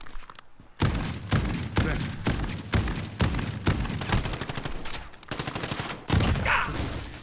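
Flamethrower shotgun in Call of Duty Modern Warfare firing a rapid series of loud, close blasts, about nine booming shots with short gaps and one brief pause, no talk.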